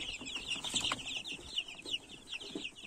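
Chicks peep in a brooder with high, rapid overlapping chirps, fairly close and steady, with occasional soft clucking and light rustling beneath.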